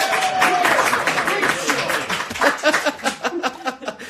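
Live studio audience clapping and laughing, a dense, continuous patter of applause with bursts of chuckles, fairly close and loud throughout.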